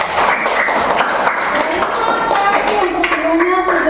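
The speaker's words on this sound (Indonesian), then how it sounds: "kita tepuk tangan semuanya dulu." A classroom of students claps hands together, a lively, uneven patter of many hands that keeps going for several seconds, with voices and a few ringing tones mixed in underneath.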